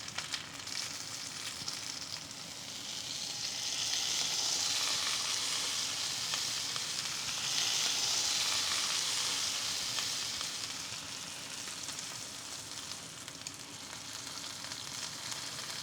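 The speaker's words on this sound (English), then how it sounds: "As soon as it goes in, I want to press down either side till I hear that sizzle." Steak searing in a hot pan, giving a steady, fairly quiet frying sizzle that swells and fades slightly over time, heard alone with no talking.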